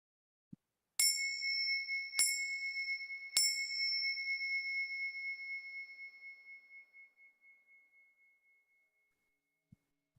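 Three bell strikes mark the start of a Zazen meditation sitting, evenly spaced about a second apart, each a clear bright ring that blends into one long fading tone in an otherwise silent room.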